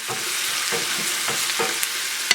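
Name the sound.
garlic sautéing in a pan with potatoes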